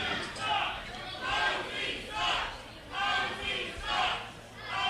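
A wrestling crowd at an NWA Wildside show jeers and boos at the referee in swelling waves, a broad roar that rises and falls several times over a few seconds.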